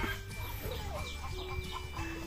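Chickens on a farm cluck in short, scattered bursts at moderate distance, with lively hens calling over a constant low background hum and no talking.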